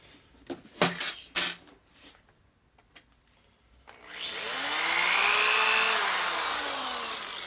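A power drill bores into a Harley-Davidson M8 145ci big-bore motorcycle engine case, starting after a few sharp taps and clicks and then whining loudly and steadily up close for several seconds.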